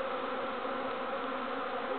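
A backyard bee swarm fills the air with a dense, continuous buzzing drone, close and steady, with many bees humming together and no voices.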